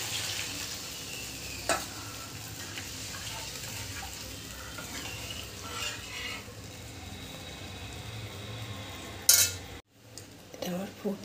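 Cow's milk simmers in a pan with prawn masala after frying, a soft bubbling hiss broken by a few clinks of a utensil against the metal.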